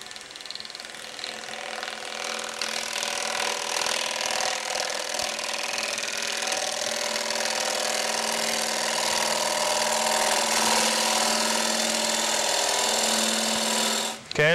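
A wooden bowl spins on a lathe as a tool cuts into it, a steady whirring hum with a rough scraping texture that runs continuously at moderate volume until an abrupt stop at the very end.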